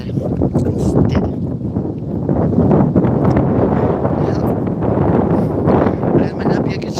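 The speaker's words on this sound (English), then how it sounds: "It's really windy." Strong wind buffets the microphone in loud, continuous gusts, roaring and rumbling with brief dips, and a voice is faintly audible beneath it.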